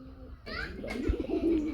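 A pair of red desi Bombay pigeons gives a short burst of throaty cooing, close but soft, with a brief click and voices faintly in the background.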